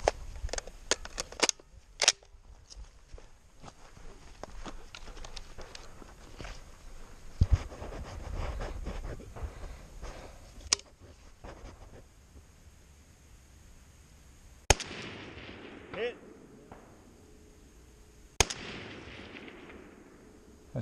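An RFB rifle fires at targets 300 and 500 yards away at an outdoor winter range, with several sharp, loud single shots spaced apart over faint background rustle and a few softer clicks and pops.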